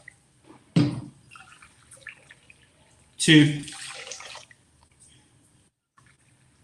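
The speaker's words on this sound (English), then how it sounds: "You're going to start with 3 cups of hot water from the kettle." Hot water from a kettle is poured into a pan in cup measures, two separate close pours with splashing, between quiet spells where a person speaks.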